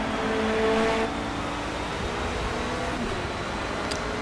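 Car engine in the Forza Motorsport game racing around the final corner at Watkins Glen, a steady droning engine note that holds under load at moderate loudness.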